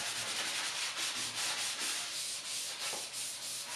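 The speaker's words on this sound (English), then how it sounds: "I use my 220 grit sanding sponge after the primer dries" Steady back-and-forth rubbing of a 220-grit sanding sponge over dried primer on furniture, close and rhythmic, a continuous abrasive hiss with no talking.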